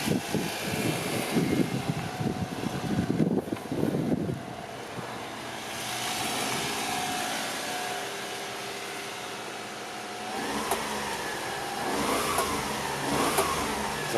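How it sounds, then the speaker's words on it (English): The 3-cylinder E07A engine of a 1991 Honda Acty 4WD truck runs with a brief rev at first, then settles into a steady, buzzy idle that swells slightly again near the end. No one speaks. "Sounds like an Acty. This is an E07A engine, so that's the same 3-cylinder that Honda put in a ton of other cars."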